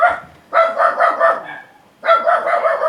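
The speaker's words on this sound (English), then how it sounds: "Yep, we still got dogs." Several dogs barking in bursts, a cluster of loud, close yaps and woofs, a pause, then another volley, in a neighbourhood in the Philippines.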